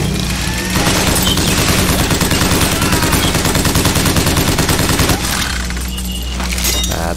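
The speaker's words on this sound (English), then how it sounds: "Crank gun. Hear this." Crank gun from BioShock Infinite fires a loud, sustained rapid stream of shots for about five seconds, then cuts off into quieter clatter and ambient game sound.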